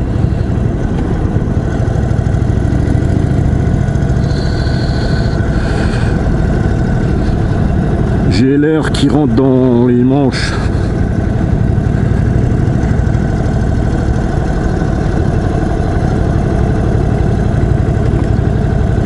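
The engine of a 2021 Indian Chief Dark Horse motorcycle drones steadily on the road with a loud, continuous low rumble and heavy wind rush. A rider speaks briefly over it partway through.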